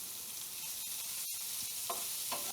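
Summer vegetables fry in a pan, giving a steady, close sizzling hiss throughout, with a few soft clicks and a couple of brief spatters near the end.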